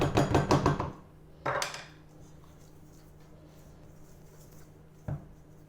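Bread dough ingredients being mixed in a bowl after sugar, salt and olive oil go in: a quick run of clinking, scraping strokes, then isolated knocks later over near silence.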